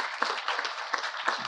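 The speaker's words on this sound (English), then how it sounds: "Let's give them a hand of applause." Audience applause at a Gandhi legacy keynote event, a steady wash of many hands clapping from a moderate distance, brief and fairly even.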